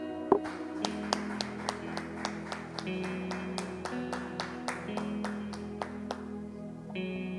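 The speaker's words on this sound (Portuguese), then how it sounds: "um aplauso ao Senhor" Worshippers in a church service clap together to a steady, rhythmic beat, the claps sitting over a sustained low musical drone that fades out near the end.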